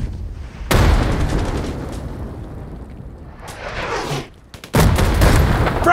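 A frag grenade blast in the shooter game Hired Ops: a sudden loud explosion with a long rumbling tail, then a brief dip and a second heavy burst, no voices heard.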